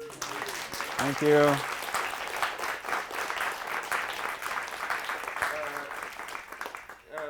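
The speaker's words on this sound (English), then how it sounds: "maybe we could clap for Neil one more time" A live audience at an arts lab talk claps for the speaker Neil, a sustained, dense burst of applause that carries on for several seconds, with brief spoken thanks over the start and a voice picking up again near the end.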